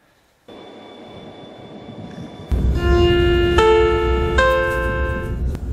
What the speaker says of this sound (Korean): 300km에 가까운 속도로 달리던 열차는 연이은 터널을 지나 35분 만에 포항역에 도착합니다